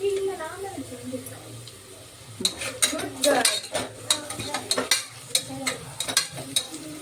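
Onions stir and sauté in a pan, a spoon scraping and clattering repeatedly against the metal over a soft sizzle, close and fairly loud, with a voice speaking briefly at the start.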